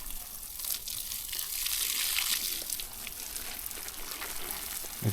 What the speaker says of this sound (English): Start watering the carrots.